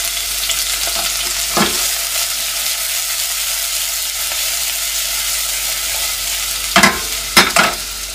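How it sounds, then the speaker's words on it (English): Onion frying in hot oil in a pan gives a steady, close, loud sizzle that runs unbroken throughout, with a few sharp clatters of utensils on the pan near the end and no talking. "I just put the onion in there."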